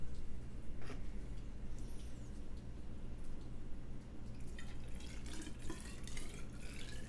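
Apple-and-honey cyser must trickles and drips through a funnel into a measuring tube, a faint, uneven splashing and dribbling close by under a low room hum.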